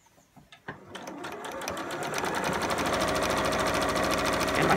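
A sewing machine stitching a scrubs bag over a bulky seam starts with a few slow separate thumps, then speeds into a fast, even, loud rattling run that keeps going to the end.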